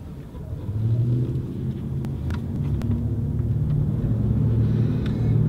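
A car drives along a road after a do-it-yourself wheel alignment, its engine and tire rumble a steady, fairly loud drone throughout with a few faint clicks above it.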